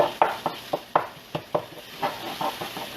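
Garlic hitting a hot pan for shrimp scampi, a series of distinct stirring scrapes and sizzling bursts at an irregular pace, close and clear with no talk.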